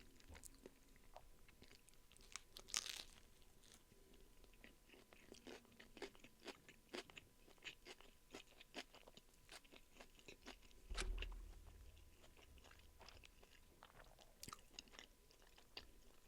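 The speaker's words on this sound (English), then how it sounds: "I hope you can't hear me just munching on my food." Someone munches food close to the microphone, producing faint, irregular crunches and bites scattered throughout, with a low thump partway through and no talking.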